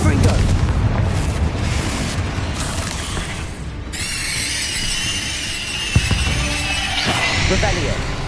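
A fiery Confringo spell blast in Hogwarts Legacy on PS5, a loud, dense rumbling burst that carries on through the whole stretch under the game's music and effects, with a sharper hit near the end.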